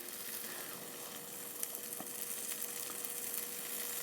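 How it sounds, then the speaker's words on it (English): Eggs cook in a hot pan with a steady, close sizzle and crackle running throughout, broken by a few soft pops and light spatters. "All I'm doing is I'm letting the base cook on the bottom first"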